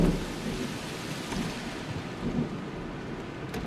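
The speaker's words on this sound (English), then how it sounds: "Thunder." Heavy rain pours steadily while a deep roll of thunder rumbles in a zombie survival video game, loud and continuous with no voices.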